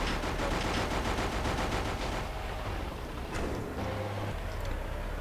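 Tank firing in GTA Vice City, a rapid rattling burst of repeated shots and booms that fades into rumbling engine noise, loud and close, with no talk.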